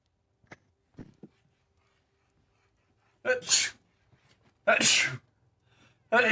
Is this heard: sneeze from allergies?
yes